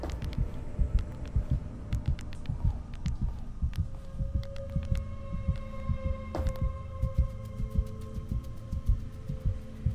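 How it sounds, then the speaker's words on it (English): Eerie heartbeat effect in a Roblox nursery escape game: a steady, low thumping pulse with a droning hum underneath, loud and continuous. "Got like a weird heartbeat."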